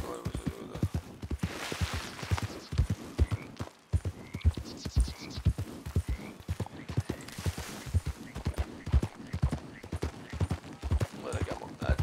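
Steady rhythmic clip-clop of horse hooves trotting in a video game, close and continuous for the whole stretch, with occasional faint background sounds.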